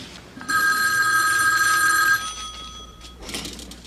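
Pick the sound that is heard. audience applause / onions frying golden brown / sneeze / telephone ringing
telephone ringing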